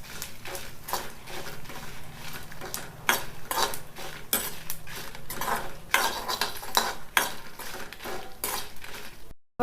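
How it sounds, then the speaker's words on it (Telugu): Cumin seeds and dried red chillies being dry-roasted in a pan, with repeated scraping and stirring strokes of a spoon against metal and a faint background crackle, close and steady, without talk. "1 స్పూను జీలకర్ర వేసుకొని జీలకర్ర ఎండుమిర్చి మంచిగా వేయించుకోవాలి"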